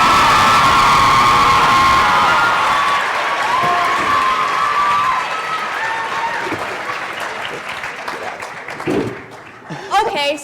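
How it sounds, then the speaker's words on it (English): Loud audience applause with cheering and whoops at a high school coronation ceremony, a dense wash of clapping that fades gradually, with scattered voices and shouts emerging near the end. "let's give a big round of applause for the first candidates of the evening, Matt Anderson and Christy"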